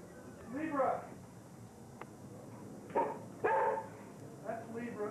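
A dog named in passing by its owner barks a few times at a short distance, with separate bursts spaced out over several seconds against quiet room noise.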